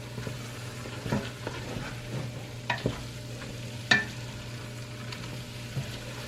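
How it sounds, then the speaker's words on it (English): Flour being stirred into melted fat in a pan, a steady low sizzle under scattered scraping and clicking strokes of the spoon, with a few sharper knocks against the pan. "Now we're going to add in our flour, a half a cup. We're going to stir this around in there real good."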